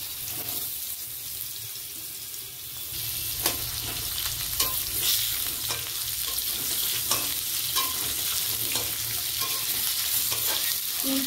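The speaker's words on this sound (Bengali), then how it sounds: "এবার আমি আলুগুলো ভেজে নিচ্ছি" Potato pieces frying in hot oil in a pan, a continuous bright sizzle with repeated scraping and clacking as a utensil stirs them, steady and close with no talking.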